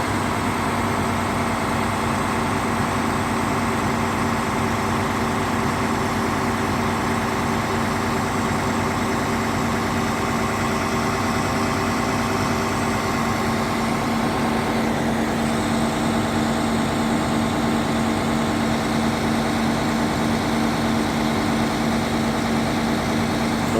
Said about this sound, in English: I don't want to go too high on the RPM, it's not good for the engine